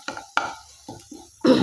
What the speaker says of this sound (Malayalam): അപ്പോൾ അത് ഇങ്ങനെ ഇളക്കിക്കൊണ്ടിരിക്കുക.